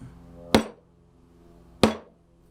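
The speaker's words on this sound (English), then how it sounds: "And then I'll just tap it with the mallet." A wooden mallet strikes a chisel set into wood twice, about a second apart, each a sharp, close knock with a quick decay against a quiet workshop background.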